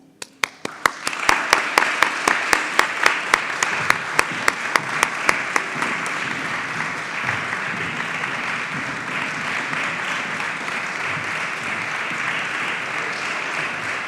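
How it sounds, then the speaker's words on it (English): A graduation ceremony crowd applauds the incoming insurance and risk management graduates, starting with a few distinct slow claps that quickly swell into loud, sustained applause filling the hall for over ten seconds. "applause."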